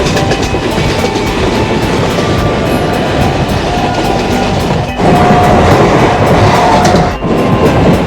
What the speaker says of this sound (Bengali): ট্রেন ছাড়লো কাশিমবাজার